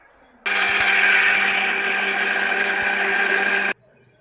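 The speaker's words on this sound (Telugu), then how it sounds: "మిక్సీ పెట్టుకోవాలి" A kitchen mixer grinder whirs loud and steady for about three seconds, blending roasted ingredients with tomato and salt for a coriander chutney, starting and stopping abruptly.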